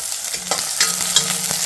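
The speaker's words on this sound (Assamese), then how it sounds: "ডাইৰেক্ট পিঁয়াজখিনি দি এনেকৈ ভাজিম।" Sliced onions sizzle loudly in hot oil in a pan for an Assamese chicken dish, a steady close crackle broken by spoon scrapes and stirring clatter.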